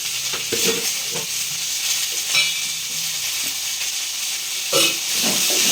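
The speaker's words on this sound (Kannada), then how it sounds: "ಚೆನ್ನಾಗಿ ಸ್ವಲ್ಪ ಫ್ರೈ ಮಾಡ್ಬೇಕು." Onion, tomato, garlic and a single green chili fry in a pan with a steady sizzling hiss, while a utensil stirs and scrapes in several short bursts; there is no talking.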